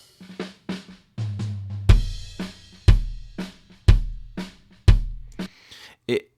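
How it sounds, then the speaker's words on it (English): A lone kick drum thumps in a steady pattern, each hit booming in the low end with a soft, rounded attack, plus a few lighter hits at the start. "kick drum feels a little flubby to me."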